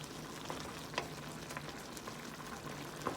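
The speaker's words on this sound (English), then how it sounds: "let it sizzle for about 2 minutes" Pompano fish sizzles and fries steadily in a covered pan, a constant crackling hiss with occasional sharper pops, close by and without talking.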